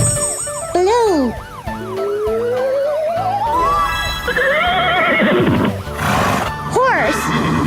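A cartoon horse whinnies as an animation sound effect, a loud, wavering neigh rising and falling over lively background music with siren-like sweeps, briefly broken by a voice.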